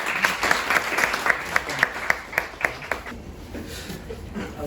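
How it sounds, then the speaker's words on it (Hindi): A classroom audience claps during a college physics demonstration, with sharp rhythmic claps standing out at first over a steady bed of applause that fades toward the end. "ताली बजा सकते हैं."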